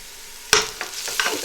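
Kashmiri chilli flakes, turmeric, red chilli powder and coriander powder fry in hot oil with a soft sizzle, broken by three sharp scraping strokes as a spoon stirs the pan, close up.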